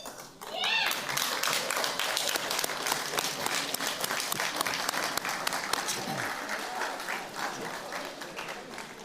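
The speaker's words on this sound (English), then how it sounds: "give the community a round of applause" Loud, sustained applause from an audience at a school athletics sports banquet, dense clapping that starts abruptly and continues steadily, with a few cheers mixed in.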